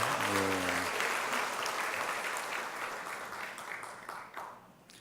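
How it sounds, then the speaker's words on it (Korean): A church congregation applauds its choir during a Sunday university chapel service, steady broadband clapping that starts strong beside a brief harmonic tone and gradually fades over five seconds. "우리 오랜만에 찬양대를 위해서 박수하겠습니다."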